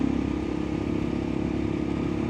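A motorcycle engine running steadily after a downshift on a dark, tree-lined stretch of Fort Ross Road toward Cazadero, California, with a loud, even mid-pitched drone and faint wind, no voices.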